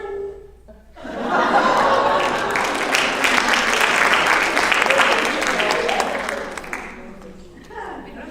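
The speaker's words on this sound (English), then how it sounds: "We don't have time for clapping." Audience at a kindergarten opera presentation breaks into sustained clapping mixed with laughter and chuckles, loud and dense for several seconds before tapering off.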